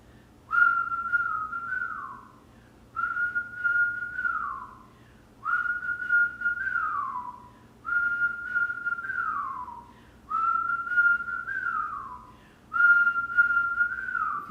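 Whistling in a kundalini yoga session: six rhythmic phrases, each a sustained tone ending in a downward slide, evenly spaced with brief breaths between, clear and close with no speech.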